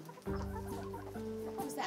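A silver lace Wyandotte hen clucks close by in a chicken coop, a sustained run of throaty, tonal clucks and murmurs lasting most of the moment, with no talk over it.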